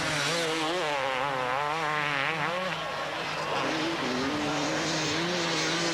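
Several 250cc motocross bikes race at a 1997 World Motocross Grand Prix round on the sand of Valkenswaard, Holland, their engines screaming loud and close in overlapping, shifting whines with a crowd roar behind.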